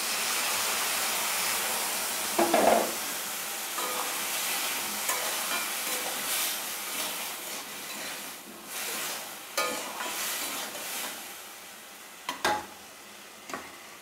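Spice paste mixed with water tipped into a pan of potatoes fried until reddish-brown, for a light-spiced pointed gourd, potato and prawn curry, sizzling steadily, with a sharp splash as it goes in and scattered stirring clatters.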